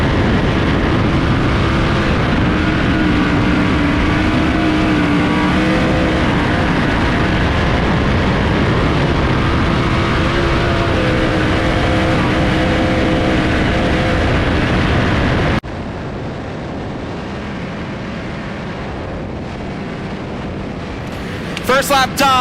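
A 410 sprint race car rolls onto the Knoxville Raceway dirt oval, its loud, steady engine roar sustained for about fifteen seconds before dropping away to a quieter, distant hum.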